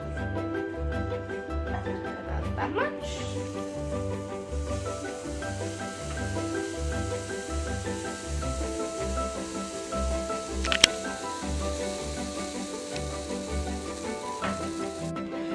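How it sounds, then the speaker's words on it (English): Pancake batter is poured from a big scoop into an oiled pan, with a steady sizzle and hiss of frying under a faint repeating low thump, and a voice briefly speaks. "now we're gonna take our big scoop and pour in our batter into the pan"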